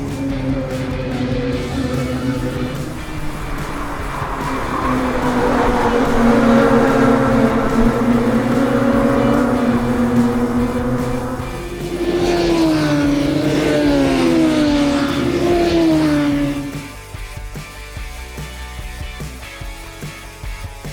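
Race cars at Sebring circuit near the exit of turn one, engines droning loudly as they pass, one car's pitch rising and falling as it accelerates by, with the next car's engine climbing and fading.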